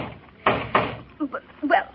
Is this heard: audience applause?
no